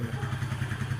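A small kick-start motorcycle idles outdoors, its single engine ticking over steadily at a low, well-tuned speed below 1500 rpm, with an even, close pulsing throb throughout.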